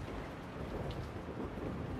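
Heavy rain falls in a continuous dense patter under a deep, rolling rumble of thunder, steady and enveloping for the whole short stretch.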